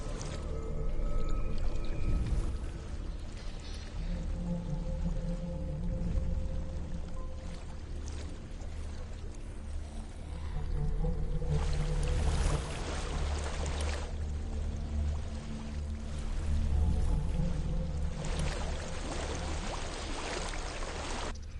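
Waterfall in the video game Hellblade: Senua's Sacrifice, a steady, loud rushing roar of falling water that continues throughout with swelling surges, mixed with low ambient game sounds.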